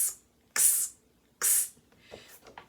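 A voice imitates the 'ks' sound of the letter X with two sharp, hissing bursts close to the ear, followed by a few softer, shorter breathy hisses.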